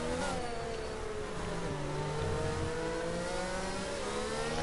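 A Formula 1 car in a racing video game at the British Grand Prix, its engine whining steadily at high revs with rising and falling pitch, loud and continuous with no talk over it.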